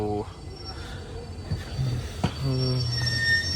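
A train pulls into Nabha station in Punjab with faint metallic wheel squeal and steady rumble, with brief higher tones over the background.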